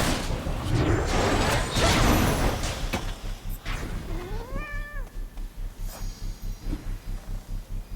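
A single cat meow rises and falls midway, fairly close and clear, over a steady rhythmic pulsing hum in the background.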